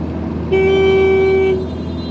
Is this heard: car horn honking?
yes